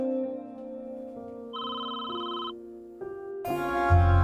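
A phone rings with an electronic tone, a short melodic pattern of beeps, fairly close, followed by other chiming tones.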